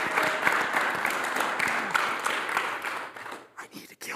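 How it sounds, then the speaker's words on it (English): Audience applause after worship music at a church service, a steady dense wash of clapping that thins and breaks up toward the end, with some voices mixed in. "While John's writing and getting set up, let's give a round of applause for Adam."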